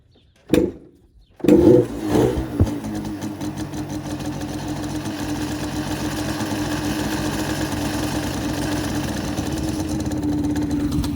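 A Yamaha Banshee quad, a barn find, catches after a couple of short cranking bursts, then settles into a steady, loud two-stroke running drone close by.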